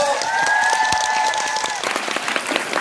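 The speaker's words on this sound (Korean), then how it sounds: "박수부탁드릴게요" Applause from a fan meeting audience for Kim Soo-hyun at a Lemona event in Seoul, loud and dense clapping from a large crowd, with a sustained voice or tone over the first half.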